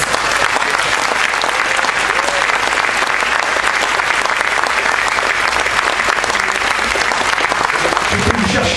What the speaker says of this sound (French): Un tonnerre d'applaudissements pour Laetitia Vignocchi,